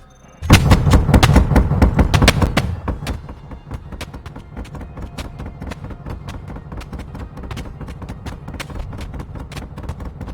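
A turret in Space Engineers fires rapid, sharp gunshots, loud and dense at first, then settling into a steady rhythm of quieter repeated shots with metallic pings.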